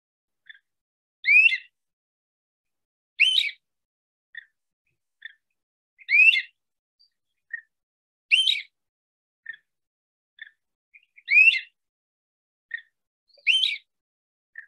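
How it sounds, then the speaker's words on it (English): A great crested flycatcher gives loud, clear whistled calls every couple of seconds, each a rising wheep like a police whistle, with softer short chirps scattered between them. "Just now starting to return is the great crested flycatcher"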